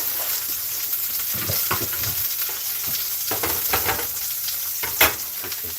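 Ground beef sliders fry on a grill being cooked well done, with a continuous sizzle, several short scraping and stirring bursts, and a sharp clank near the end.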